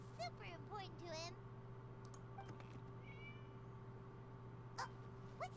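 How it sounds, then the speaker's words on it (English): A cat meows in a video game, several short rising meows near the start and a couple more later, heard over a constant low electronic hum with sparse clicks and faint game sounds. "It was just a cat."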